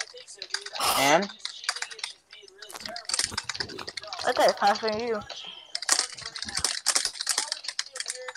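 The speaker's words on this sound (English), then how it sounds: "you're typing really fast." Fast, loud typing clatters on a computer keyboard in dense bursts of keystrokes, running under casual conversation and brief exclamations throughout.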